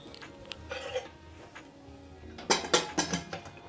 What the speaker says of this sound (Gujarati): આ રીતે કાણાવાળું ઢાંકશું